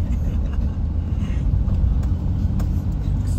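Big lorry rumbling past on a road in Pattani, Thailand, a low steady drone heard up close from a moving vehicle, with no voices.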